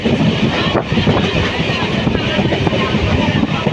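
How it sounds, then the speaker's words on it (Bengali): Steady broadband rumble and rattle from inside a moving train on an early-morning ride, continuous and fairly loud throughout with no clear voices. "আর আমি এখন ট্রেনে আছি"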